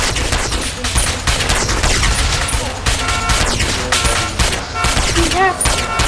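Rapid gunfire rattles through a street fight in GTA San Andreas, a dense string of repeated close shots with brief gaps, over busy game noise and occasional voices.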